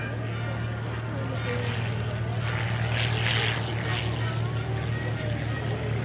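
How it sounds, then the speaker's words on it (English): A Fairchild PT-26 trainer with an inverted four-cylinder Ranger engine flies past at an airshow, giving a steady droning propeller hum that holds level throughout, moderately loud under a wash of outdoor crowd noise. "I think this is Mark Dinez flying a PT-26, the Fairchild PT-26 aircraft."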